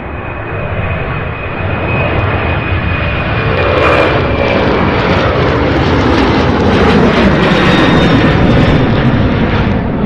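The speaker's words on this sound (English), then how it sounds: "So that A300 that took off a second ago" An Airbus A300 jet roars steadily through its takeoff at Louisville International Airport, a loud, sustained engine rumble with a thin high whine that swells after the first second and holds strong to the end.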